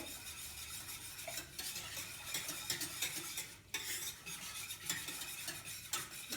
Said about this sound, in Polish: wystarczy, że będzie lekko podgrzane i następnie możemy wsypywać i mieszać